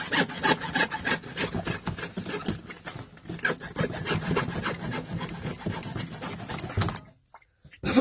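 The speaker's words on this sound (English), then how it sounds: "So we're going to start by cutting out the old pipe right here" A saw cuts through old pipe in a crawl space for a sump pump replacement, a fast rasping back-and-forth rhythm, close and steady for about seven seconds before stopping abruptly.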